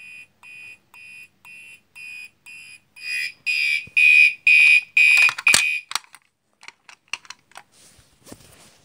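A Commander 2 fire alarm horn sounds in a steady series of loud pulsed blasts, growing louder midway, then breaks off into scattered clicks and clatter as the unit is unplugged.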